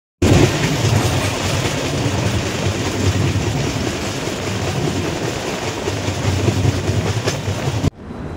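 An Amritsar Mail passenger train runs on rails with a loud, continuous rumble and rhythmic clatter of the wheels, heard from close inside. The roar cuts off sharply near the end to a quieter hum.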